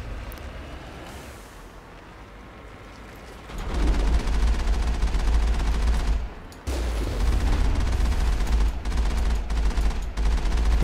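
Sustained gunfire in the video game Mass Effect, a dense loud barrage of shots that swells after a quieter opening, briefly drops out, then resumes at full intensity without speech.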